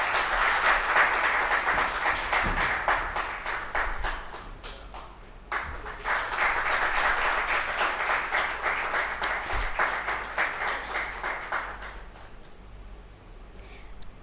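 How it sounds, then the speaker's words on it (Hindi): A crowd applauds continuously at a lecture, a dense wash of clapping that dips briefly, swells again, and tapers off at the end. "आपकी तालियां नहीं रुकनी चाहिए।"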